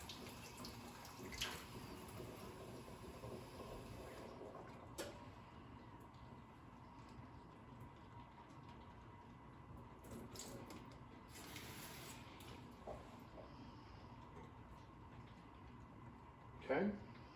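A hot water tap runs into a cup or bowl while making beignet dough, a soft continuous rushing stream that stays faint and steady for the whole span, with a few clunks.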